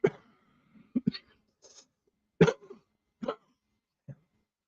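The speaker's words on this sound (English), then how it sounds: "I'm sorry about this cough." A series of short, sharp coughs in separate bursts with brief pauses between, close and fairly loud against a quiet background.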